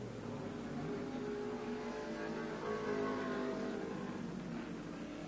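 Touring race cars from the 1989 Australian Touring Car Championship at Barbagallo circuit run flat out along the pit straight, a continuous distant engine roar swelling slightly midway, with no voices heard.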